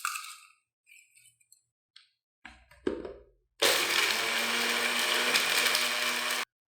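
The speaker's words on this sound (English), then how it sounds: "we're going to take those and make our first ingredient by chopping them up in this NutriBullet" NutriBullet blender chopping smoked dehydrated onions, preceded by a few clinks and taps of handling, then a loud steady motor whir for about three seconds before it stops abruptly.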